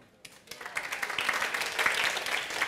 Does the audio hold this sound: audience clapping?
yes